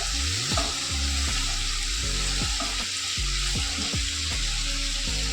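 Fried pointed gourds being stirred into a masala for chicken potol dorma, a continuous loud sizzle with rhythmic scraping spatula strokes repeating roughly every half second, no talk.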